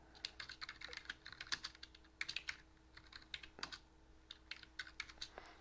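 Close, quiet typing on a computer keyboard to write down a mantra while playing Ultima IV, with irregular clusters of key clicks and short pauses between them and no talking.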